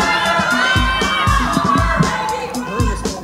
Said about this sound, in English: it's so good to hear everybody scream